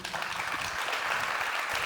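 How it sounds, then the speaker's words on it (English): A conference audience briefly applauds the speaker Luxshan after his talk. The clapping is short, even and moderately distant. "Maybe some applause for Lux?"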